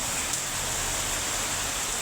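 Heavy rain pours steadily, a dense, loud, unbroken wash of noise with no pauses, filling the whole space close by.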